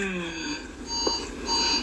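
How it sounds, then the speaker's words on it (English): Alarm clock going off for work with repeated electronic beeping tones in a home, fairly loud and continuous, with a brief faint voice in the middle. "That's Phoebe's alarm for work"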